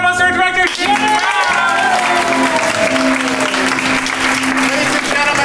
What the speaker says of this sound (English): give a big round of applause to our director, Jason